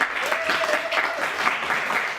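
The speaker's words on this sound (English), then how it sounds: "please give them a great round of applause." Audience at a street bazaar vendor meeting applauds, a dense burst of clapping that stays loud and steady for a couple of seconds.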